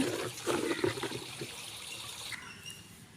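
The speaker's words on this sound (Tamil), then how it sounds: "வயலுக்குள்ள தண்ணி பாய்ச்சிட்ருக்குது." Irrigation water pours into a farm field beside a vegetable garden, a close rushing, gurgling flow that is loudest at the start and then thins to a softer trickle.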